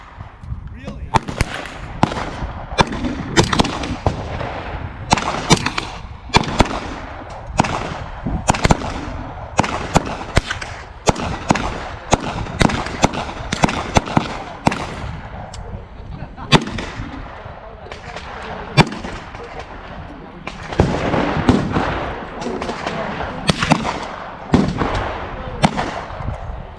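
Gunshots crack in rapid, irregular succession at an outdoor shooting range on Long Island, loud sharp reports from nearby and adjacent lanes, with people talking between shots.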